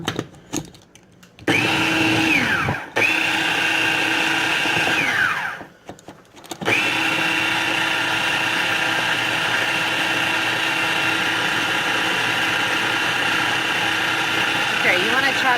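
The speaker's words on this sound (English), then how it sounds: "that's if you even want to use the food chopper" An electric food chopper whirs through a salmon croquette mixture, running in a couple of short pulses before a long, steady, loud motor drone with a high whine, with people talking around it.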